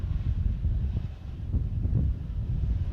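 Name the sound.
wind blowing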